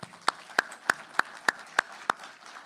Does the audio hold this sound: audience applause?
yes